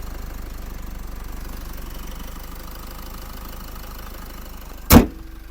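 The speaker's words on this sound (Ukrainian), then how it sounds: "Двигун працює гарно" A Renault Koleos car engine idles with a steady low rumble throughout, ending with a sudden sharp thud like a door shutting.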